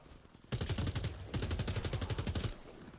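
Bursts of automatic gunfire in the Warface shooter game, two close rapid-fire volleys with sharp rhythmic shots, loud and clear with no talking over them.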